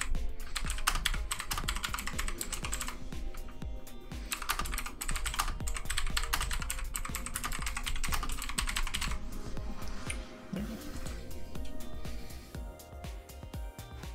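Fast, continuous clicking and clacking of a computer keyboard being typed on, close and crisp, with brief pauses between bursts of keystrokes.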